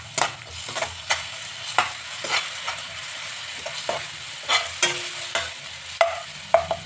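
Soft sizzling of onion and garlic-ginger paste frying in a pan, broken by regular scraping stirs of a spoon, close by and moderately loud, with no voices.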